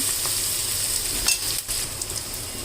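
Fresh fenugreek leaves frying in a pan for a curry, a steady close sizzle with a few stirring scrapes partway through, loud and continuous with no talking.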